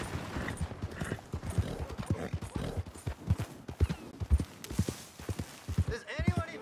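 Steady clip-clopping hooves of a horse in the video game Red Dead Redemption 2 at a moderate walking rhythm, close by, with a few faint snorts and background ambience.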